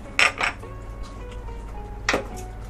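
Chicken pieces going back into a cooking pot bring two quick clattering knocks near the start and another near the end, with faint metal-on-metal clinks and a low steady kitchen hum between them.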